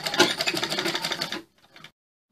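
A sewing machine stitches a suit collar with a short, close, rapid whirring run of about a second and a half, then a faint brief tail before silence.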